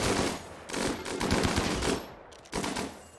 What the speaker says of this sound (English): Joel, I want you to get off a shot right there.